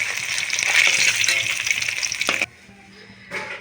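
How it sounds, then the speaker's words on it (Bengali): Fish pieces sizzle loudly in hot oil in a wok, a dense, crackling frying hiss for about two and a half seconds that then drops away to near quiet before a brief softer return. "তো মাছগুলো আমার লাল লাল করে ভাজা হয়ে গিয়েছে"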